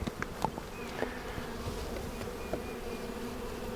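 Honey bees buzz steadily inside an open, defensive hive during a nectar flow, with a dense continuous hum close by and occasional individual bees darting past the ear.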